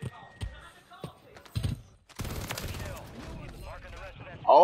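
Rapid gunfire in an online shooter video game, sharp bursts of shots cracking close behind the player in quick volleys, with game noise and some movement between them.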